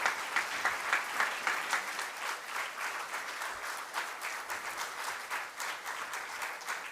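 Sustained applause from an indoor hall audience for a decoration team, with steady dense clapping that holds at an even, moderate level throughout.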